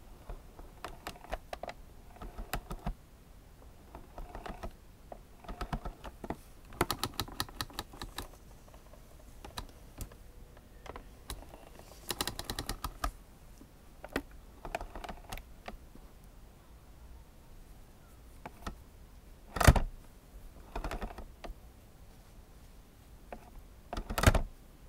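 Densha de Go Type 2 train controller for PlayStation 2 being worked by hand, giving scattered clicks and plastic clunks in irregular bursts with a few louder knocks near the end, heard alone and close up.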